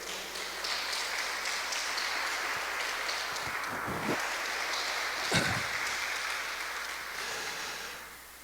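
Church congregation applauding during a sermon, a steady wash of clapping from many hands in a reverberant hall, with a couple of louder thumps, fading at the end.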